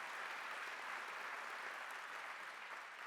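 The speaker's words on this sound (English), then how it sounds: "Please give them a round of applause again for that." Faint applause from an audience at a faith and freedom coalition spring kickoff event, a steady even patter of clapping heard from a distance with no voices over it.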